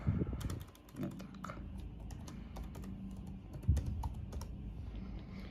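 Close, steady typing on a computer keyboard as a command is entered, with a run of brisk key clicks and a few heavier strokes, no talking.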